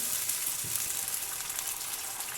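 Curry leaves, black peppercorns, cloves and black cardamom frying in hot oil for mutton korma make a dense, even sizzle with fine crackles, loud and close throughout, without speech.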